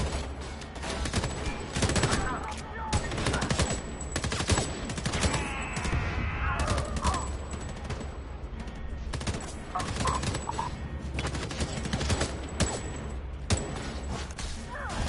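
Rapid SMG gunfire in the shooter game Homefront The Revolution, dense repeated bursts with crashes and whooshes, loud and close across the whole stretch.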